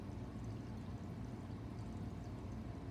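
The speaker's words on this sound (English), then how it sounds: "Listen to the water flowing." Water flowing in a waterfall makes a faint, steady broadband rush, continuous and even, with no voices over it.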